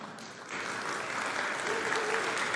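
Audience applause at a POCO F7 Pro and F7 Ultra smartphone launch event, a short burst of clapping from a crowd that swells after a brief pause and holds steady.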